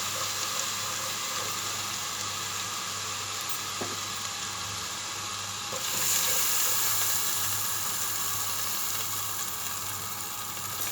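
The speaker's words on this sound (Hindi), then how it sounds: "फिर हम इसमें पानी ऐड कर देंगे।" Steady, loud sizzling of spice paste frying in a pan for kadhi, with a brief shift in the hiss partway through as water is added.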